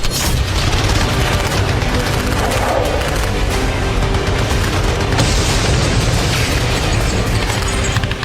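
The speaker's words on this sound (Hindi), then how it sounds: "मैक्सिम मशीन गन से लगातार फायरिंग हुई" A Maxim machine gun fires continuously at a fast-flying drone overhead, a dense, unbroken roar of rapid shots and booms, loud and sustained throughout with no voices.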